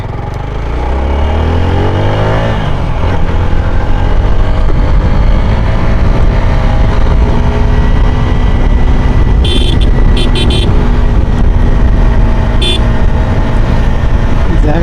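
A 4V motorcycle is ridden at high RPM, its engine note climbing steeply in the first seconds and then holding a loud, sustained roar with rushing wind and road noise throughout.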